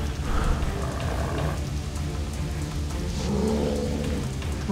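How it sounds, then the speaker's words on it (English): Rain falls steadily outdoors in a wild river area where salmon are caught, a dense continuous patter of drops on surfaces, fairly loud and close, with no talking. "Starting to rain."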